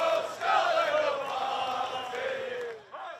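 World Cup fans cheer and shout as a crowd, a sustained roar of voices with rising and falling yells that fades briefly near the end.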